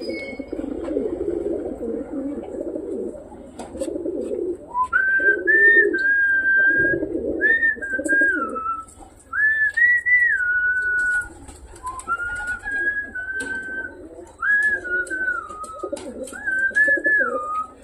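Domestic pigeons coo on a rooftop as they are fed, soft low burbling calls repeating in a loose rhythm, joined in the second half by a steady series of higher whistling notes.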